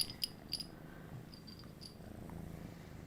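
A cat purrs softly and steadily up close, a low continuous rumble under a few faint high clicks near the start, with no speech.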